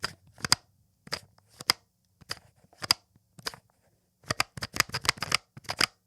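A series of short, sharp plastic clicks and scrapes from a jar lid being twisted, in irregular bursts with a quick flurry near the end.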